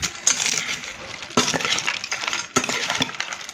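Corn poha chaat ingredients being stirred and tossed together in a bowl, with clinking scrapes and crisp rustling in a few bursts, close and fairly loud.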